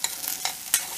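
Rice with a sugar cube toasting in a pot, a steady hiss broken by a few sharp scraping stirs of the spoon, close and alone without talk.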